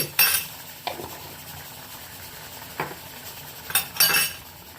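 A utensil clinks and scrapes against a pan while shukto vegetables are stirred in ghee, giving a few sharp separate knocks spread across a quiet background with no talking.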